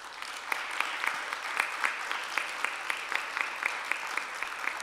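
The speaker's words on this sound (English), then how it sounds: "Audience, please join me in thanking the candidates with our applause." Applause from an audience at a League of Women Voters candidate forum for the Corcoran City Council, a steady moderate wash of clapping with scattered sharper claps, heard fairly clearly and without talk.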